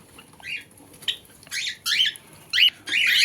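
Parrots carried out for delivery give about six short, harsh, close squawks in quick bursts, growing louder and longer toward the end, over a faint rustle; no talking.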